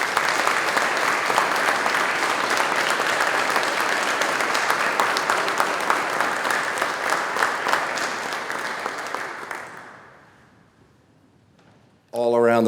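At an alumni awards ceremony, the audience gives a loud, sustained round of applause for three award recipients, a thick wash of clapping that tapers off and dies away before a voice briefly resumes.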